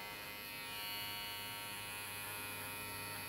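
Electric hair clippers buzz in a steady, close drone while cutting a flattop haircut, continuous and even, with no talking.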